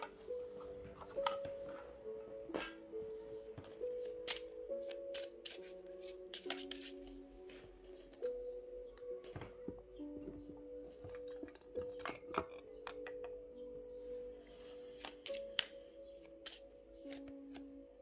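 Tarot cards shuffled by hand before a reading, a faint, close series of crisp riffles and taps running throughout over soft background music.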